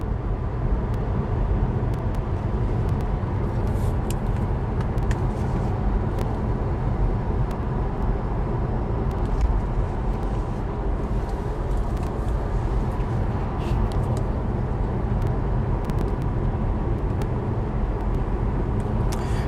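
Porsche Taycan electric car driving on a road during a battery range test; a steady, continuous cabin rumble of tyres and road noise holds throughout with no talking.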